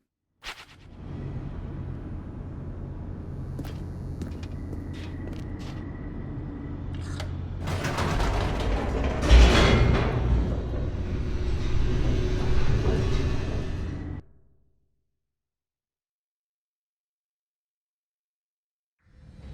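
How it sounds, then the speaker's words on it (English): An elevator in the video game The Stanley Parable descends with a steady low mechanical rumble and whir for about fourteen seconds, swelling louder with rattling midway, then cutting off into silence. "The elevator raced downward, plummeting towards an unknown fate."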